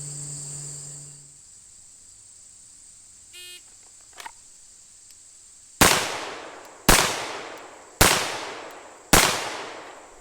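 An M9 pistol fires four loud, close shots during a law-enforcement qualification course, evenly spaced about a second apart, each with a sharp crack and short decay. Faint insect-like chirping and a few small clicks come before the shots.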